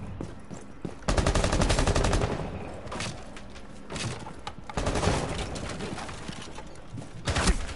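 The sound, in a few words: flashbang thrown in video game Rainbow Six Siege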